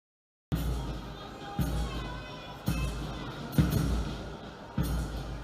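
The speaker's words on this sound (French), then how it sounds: "à travers les applaudissements et les cris de joie, a exprimé sa joie et sa fierté d'être guinéen" Crowd applauding and cheering during a parade in Guinea, a steady wash of clapping and shouts with several abrupt rises in level, fairly distant and even, under faint background voices.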